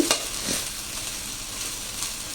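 Thin-sliced okra fries in a wide pan and gets stirred, giving a steady crackling sizzle broken by brief scraping clatters.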